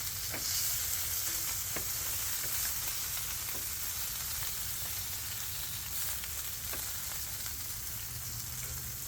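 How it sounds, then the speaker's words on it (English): Sausage and eggs fry on a greased griddle with a steady, close, dense sizzle that holds level throughout, with faint occasional scrapes. "We got this griddle here already greased up with the eggs. Look at that, sausage and eggs"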